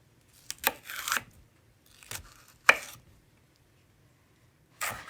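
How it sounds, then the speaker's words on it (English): A knife chops celery stalks on a board in a few sharp, close cuts, separated by short quiet gaps, with no talk. "And I'm just running my knife right down the stalks, making sure to get evenly sized celery pieces."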